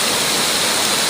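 Waterfall swollen by floodwater after heavy rain, a steady, loud, broadband roar of rushing water that stays constant without any breaks.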